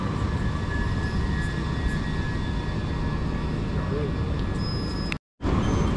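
A pair of coupled Class 375 electric multiple units pulls away from a station platform, a loud steady traction hum and rumble with faint whines, which cuts out abruptly near the end.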